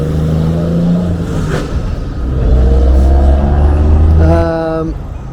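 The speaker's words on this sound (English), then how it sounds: "Start shouting as these huge trucks go past like some sort of convoy" Heavy trucks rumble loudly past in a convoy at a dockside stadium construction site in Liverpool, deep engine drone rising and falling as vehicles pass close by, with a tonal whine near the end.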